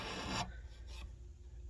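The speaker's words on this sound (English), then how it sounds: "I will take this triangle shaped file, and like I said, I will lay it in here, and all I'm going to do is just give it a couple of good passes to chamfer that" A triangle file chamfers the edge of a maple fretboard on a Fender neck. One brief, close rasping stroke is followed by a shorter, softer pass, and then quiet.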